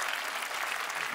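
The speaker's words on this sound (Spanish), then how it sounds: "Sí, podéis aplaudir" Audience applause at a Eurovision-themed festival show, a short dense wash of clapping from a crowd, fairly even and moderately loud.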